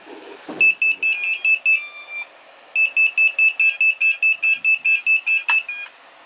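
A JHEMCU F722BT FPV drone flight controller plays rapid, loud startup buzzer beeps after a 3S LiPo is connected. A soft thump comes first, then two evenly paced runs of short electronic tones separated by a brief pause.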